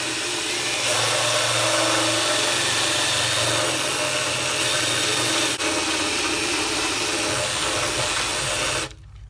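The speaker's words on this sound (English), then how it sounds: "let me show you how quick this burr bit works" A burr bit drills into fiberglass during a bathroom cabinet install, a steady high grinding whir running for several seconds before cutting off abruptly at the end.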